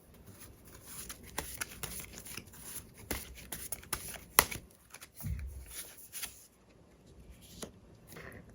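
Tarot cards shuffled by hand during a reading, a run of soft riffling flutters and sharp card slaps spread unevenly across the moment, close and fairly quiet with no talking.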